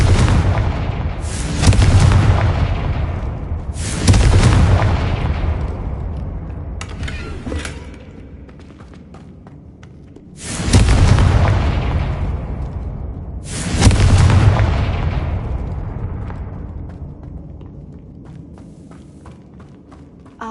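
Repeated Confringo blasting-spell explosions from the Hogwarts Legacy video game, four loud booming bursts spread over the stretch, each decaying into a rumbling tail, with a faint lighter impact between them and no speech.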